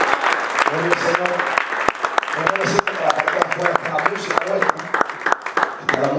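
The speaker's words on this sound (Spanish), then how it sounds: "Así que dar un aplauso al Padre, al Hijo, al Espíritu Santo." A congregation claps at a church anniversary service, with sharp individual claps and a busy crowd patter mixed under a prominent voice or singing that runs throughout.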